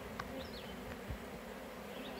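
Honeybees left over from a cutout a few days earlier buzz while clustering, a steady low drone with a few sharper passes close to the microphone, no voices.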